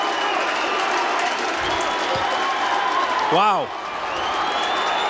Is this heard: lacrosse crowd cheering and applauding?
yes